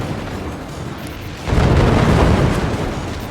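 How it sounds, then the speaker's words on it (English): Explosions in the real-time strategy video game Forts during a pro league match: a steady mix of game noise swells into a loud, dense rumble of overlapping booms and blasts that keeps going. "here comes the explosions"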